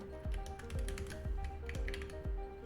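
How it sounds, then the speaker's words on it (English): Typewriter-style typing sound effect for a Godot color typewriter game: steady, evenly spaced key clacks with thumping low strikes roughly every half second, each with a small bell-like ring, quiet and alone. "I guess these are just typing sounds"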